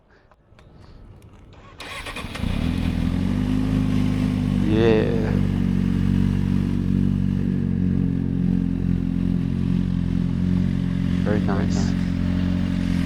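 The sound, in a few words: Suzuki GSR400 motorcycle engine starting and idling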